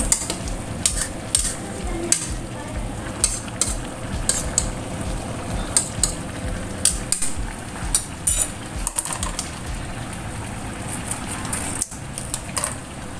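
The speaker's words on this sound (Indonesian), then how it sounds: "Aduk perlahan ya" A spoon scrapes and taps steadily in a pan of simmering tuna gulai curry with coconut milk, a slow, irregular stirring rhythm over a continuous low sizzle, close by.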